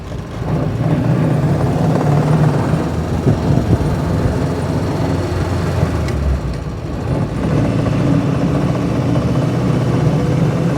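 A 1936 Austin 7 'Ruby', a later model with synchromesh on second, third and fourth gears, drives along with a steady, loud engine drone and rumble from start to finish, dipping briefly around a gear change partway through.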